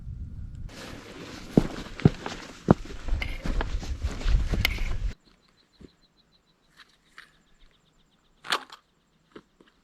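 Footsteps tramp over rough moorland ground on the Great Whernside ridge in the Yorkshire Dales, a close crunching, uneven tread for about five seconds, then stopping and leaving only a few faint scattered ticks.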